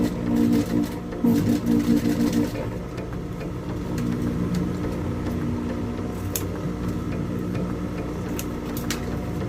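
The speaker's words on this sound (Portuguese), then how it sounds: "continua costurando" A sewing machine stitches a double fabric pencil case with piping, its motor whirring in short bursts at first, then settling into a steady, close, continuous hum.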